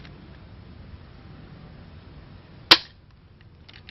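A single sharp crack of a spring-powered KAC PDW airsoft gun firing, close by, standing alone against a quiet hiss of background noise.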